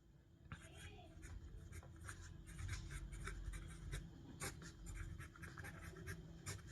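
Writing out a Class 10 maths solution by hand: a run of quick, scratchy strokes close to the mic, irregular in rhythm, over a low steady room hum.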